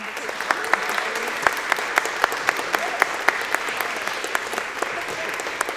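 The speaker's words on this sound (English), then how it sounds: "we should give just a huge round of applause" A sustained round of applause at a book launch held at St. John's Episcopal Church, a dense even crowd clapping with a few sharper individual claps standing out, continuing throughout.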